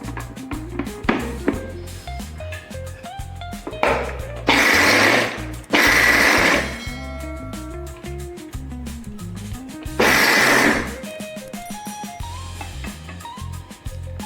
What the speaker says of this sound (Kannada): ಈಗ ನೆಲಕಡಲೆಯನ್ನು ಅದೇ ರೀತಿ ಹುಡಿ ಮಾಡುವ.